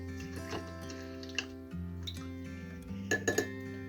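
Spoon stirring powdered gelatin with cold water in a small bowl: a series of light clinks and taps against the bowl, irregular and close, with a soft tonal hum underneath and no speech.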